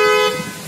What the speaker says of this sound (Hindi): ये देखिए, कार का बजर बजना फिर से शुरू हो गया।